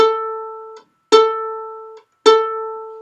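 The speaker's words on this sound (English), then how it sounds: "see if you can put that there and pluck an A." Three plucked violin notes on A, pizzicato, each ringing and fading, spaced about a second apart with silence between.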